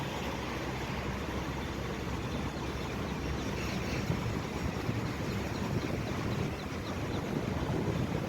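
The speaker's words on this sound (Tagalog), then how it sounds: "Lakas ng hangin." Strong wind roars and buffets continuously, a dense rushing noise with gusts rumbling across the microphone, no voices.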